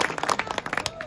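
Applause from an audience at a village speech, a short burst of many hands clapping in quick, uneven rhythm, moderately loud and fairly close, lasting about a second.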